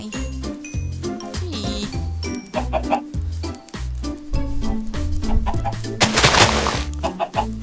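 Minecraft chicken clucking in short bursts over loud, rhythmic game background music, with a bright burst of noise near the end; no talking.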